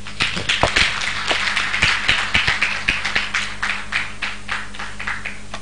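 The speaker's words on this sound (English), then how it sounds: "Another round of applause for her." Audience clapping after a legal workshop lecture on oral advocacy, a steady spread of many hands with distinct individual claps, moderately loud and continuous for several seconds with no talk over it.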